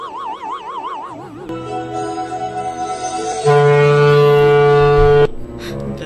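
A voice imitates the deep horn of the Titanic ship, first wobbling up and down, then holding a long, loud, steady blast that cuts off abruptly.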